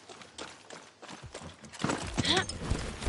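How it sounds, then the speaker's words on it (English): A horse's hooves clip-clop at a walk then quicken in Far Cry 6, soft and rhythmic at first, swelling into louder scuffing and a snort-like burst near the end. "Let's go, horse."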